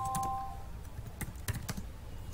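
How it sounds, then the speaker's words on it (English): Keys clack on a computer keyboard as an Oracle command is typed, a short quiet burst of several irregular keystrokes with a brief soft tone at the start. "For that we need to type the command as show parameter"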